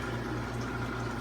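Water trickles steadily from a drip system into a fish tank in a fish room, a continuous close bubbling, gurgling wash with no voices.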